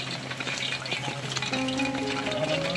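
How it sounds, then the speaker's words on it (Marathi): Oil heats in a kadhai on a gas stove outdoors during heavy rain, a continuous close crackling sizzle with faint tonal hums rising underneath partway through. "गॅसवरती कढई ठेवलेली आहे आणि त्याच्यावरती तेल टाकलेलं आहे कढईमध्ये"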